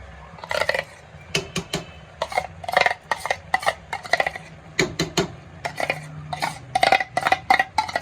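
A spoon scrapes and knocks steadily against a pan while carrot halwa is roasted with cream, giving a dense run of close metallic strokes with no talk.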